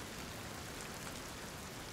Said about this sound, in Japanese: 晴れているのに雨が降る、